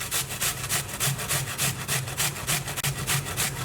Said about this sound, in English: So just grate the entire onion.